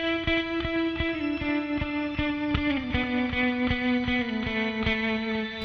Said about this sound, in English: that has a shimmer reverb, it has a tremolo, and it has the onboard overdrive from the Cerberus